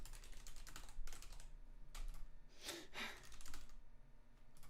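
Quick, light clicking of a computer keyboard during a typing game, fast irregular keystrokes heard close and fairly faint, with no voices.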